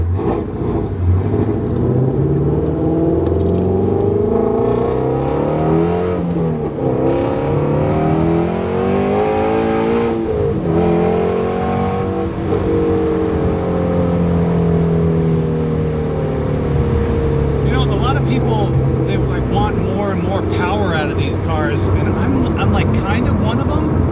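A stock Ford Mustang GT350R at a Mustang car show revs loudly and steadily, its engine note rising and falling throughout, close by and continuous, with voices talking over it.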